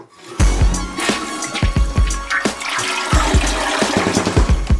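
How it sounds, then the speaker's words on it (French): A toilet flushes with a loud rush of water and gurgling, close by, with clunks and splashes as the water swirls and refills. "c'est le temps de tirer la chasse d'eau"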